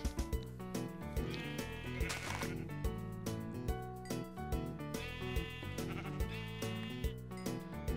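Sheep bleat in the Minecraft video game, blending into a dense, steady bed of game music that runs throughout at an even level.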